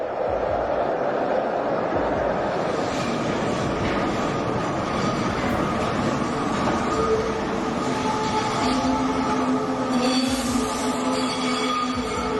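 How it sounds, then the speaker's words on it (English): A train entering Union Station on a curve, its wheels squealing against the rails over a continuous close, loud rolling roar, with no talk. "the train extends out over the platform as it enters because the stop is on a curve"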